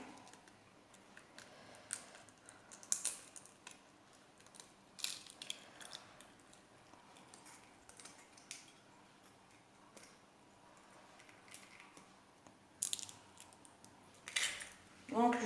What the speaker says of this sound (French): Je vais mélanger donc avec le pétrin.